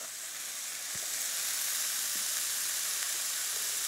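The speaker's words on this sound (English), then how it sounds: "We're going to put this whole thing just like that right there, that half of onion." Half an onion goes into a hot pan and sizzles, a steady close hiss that swells slightly after the first second and carries on evenly with no talk.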